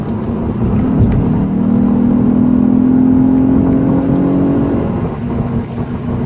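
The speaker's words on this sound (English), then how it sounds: "I'm going to downshift to third with the paddle right here on the left." A Lexus IS250 engine rises into a loud, sustained rev as the paddle shifter drops it to third gear at about 60 mph, then eases off, heard from inside the car.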